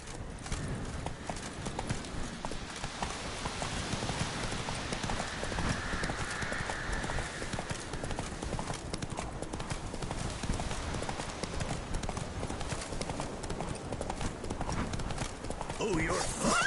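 Roach the horse trots along in a video game, a continuous rapid clip-clop of hooves running beneath a voice that talks throughout.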